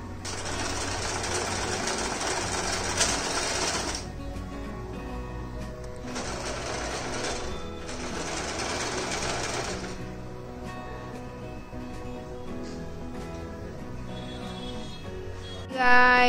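A sewing machine stitches two pieces of cloth together in close, loud bursts of rapid whirring, running for several seconds, stopping, then running again, with quieter background sounds in the pauses.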